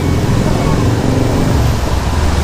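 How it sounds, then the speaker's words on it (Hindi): A loud vehicle fitted with an aftermarket exhaust passes through busy city traffic in Aizawl. A continuous, heavy low roar of engine and road noise fills the whole stretch without a break. "आवाज़ बहुत आ रहा है, उसका एग्जॉस्ट आफ्टर मार्केट जो लगाता है ना, उन लोग को बहुत आवाज़ होता है।"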